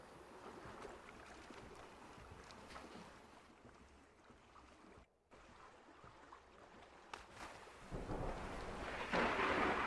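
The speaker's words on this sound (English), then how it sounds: "Rain, go The away" Rain falling outdoors with low rumbles of thunder, a steady soft wash that swells louder toward the end.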